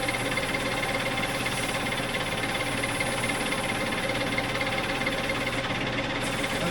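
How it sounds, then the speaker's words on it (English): A clutch part from a vintage Polaris P85 snowmobile drive clutch is polished with a tool, making a loud, continuous buzzing grind that holds level for the whole stretch without a break. "Just going to polish it a little bit."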